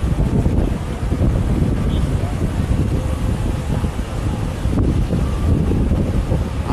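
Strong wind rushing and buffeting against the microphone during an outdoor bike ride in Dubai, a constant loud roar with gusty fluctuations throughout.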